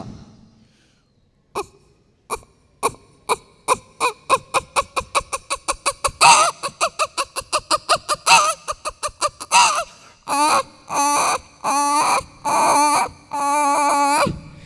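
At a Kerala school arts festival mimicry competition, a human voice imitates a frantic hen, rapid clucks accelerating into a dense run, then longer squawking cries, loud and close.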